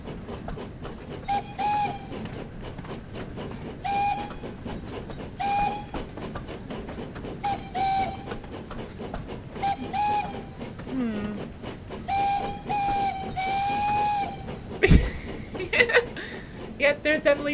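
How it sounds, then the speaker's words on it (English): Emily's train whistle in a Thomas & Friends game sounds in several short, clear toots spread across the stretch, over rolling rail clatter and engine chuffing, with a person talking and chuckling throughout. "there's Emily's whiff whistle."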